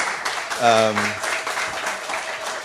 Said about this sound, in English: a round of applause for the organizers